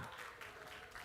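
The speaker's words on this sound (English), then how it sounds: "can we get one more round of applause" Audience applause at a live event in Miami, a steady wash of clapping from a crowd held at an even level for about a second, with no talk standing out over it.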